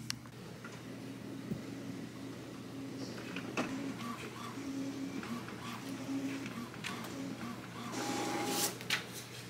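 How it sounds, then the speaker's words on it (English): Inkjet printer running a price-sheet job indoors, a steady mechanical whir with repeated carriage passes and faint ticks under light room noise. "I really hope my printer can handle this."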